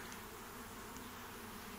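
Honeybees buzzing around hives in a small apiary yard with young colonies, a faint, steady, even drone throughout with no voices.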